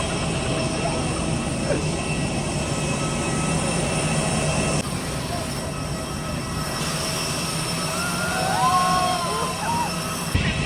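Steady jet engine roar at an airport before a flight to Chandigarh from Manali, a continuous broad drone with a high whine on top, loud and close, with faint background activity and no speech.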